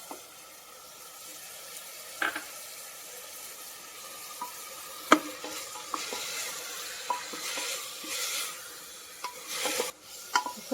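Chopped carrots, beans and soaked fenugreek sautéing in a pan: a soft, quiet sizzle broken by scattered scrapes and knocks of stirring, with no voices.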